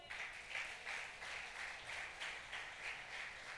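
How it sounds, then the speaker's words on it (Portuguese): A church congregation claps in rhythmic, pulsing waves, moderately close and fairly soft, with no voices over it. "Você aplauda o Senhor."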